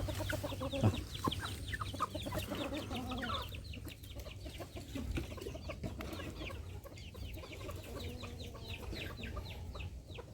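Chickens cluck repeatedly in a busy, overlapping chorus at moderate distance, with a few brief bird-like calls scattered through it and no clear talking.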